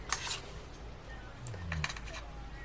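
Metal teaspoon clinking against a container while baking powder is measured out, a few bright light clinks early and a cluster of quick taps later, close and faint with a voice briefly in the background.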